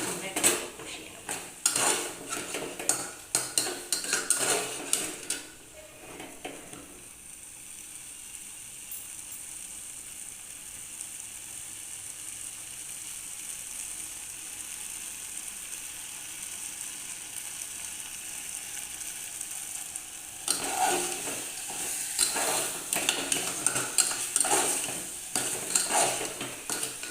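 Spices for a chicken curry sizzle in a pan while a metal spoon scrapes and clatters against it, the stirring busy and close at first, easing to a steady sizzle in the middle, then returning to brisk clanking stirs.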